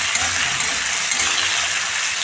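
Chopped onion, tomato, ginger, garlic and green chilli fry in mustard oil for a dhaba-style mutton chorbi torka, making a steady, fairly loud hissing sizzle without pause.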